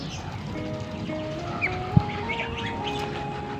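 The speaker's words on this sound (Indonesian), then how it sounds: "kedengaran entok lagi kejar-kejaran" Muscovy ducks chase each other on a duck farm in the late afternoon after feeding, with scattered squawks, chirps and a sharp cry over a busy, moderately quiet background.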